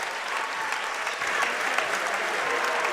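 A high school boys basketball crowd in a gym cheers and applauds steadily in a dense, sustained roar near the end of a Defiance vs. Shawnee game, with no clear talk on top.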